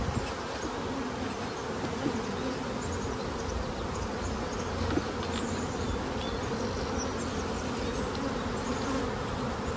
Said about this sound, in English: See how my Saskatchewan bees are staying nice and calm compared to doing it at your hive?